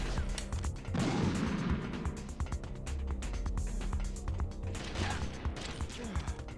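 Gunfire in Metal Gear Solid: The Twin Snakes, a burst of sharp shots near the start followed by scattered loud cracks and game noise throughout, with a voice talking over it.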